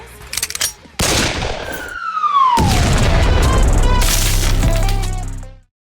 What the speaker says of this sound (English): instead of shooting the fellow dummy over here, you actually orbital strike yourself